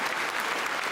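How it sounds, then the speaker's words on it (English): Studio audience at a Top Gear taping clapping steadily, a dense, even wash of applause filling the whole second with no voices over it. "Why are they clapping?"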